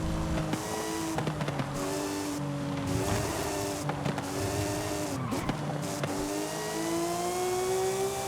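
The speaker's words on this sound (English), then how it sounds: "It generally just sounds like a race car." A Porsche in the racing game Forza Horizon 5 revs loudly, its engine note rising through quick gear shifts with brief tire squeals, heard alone and up close.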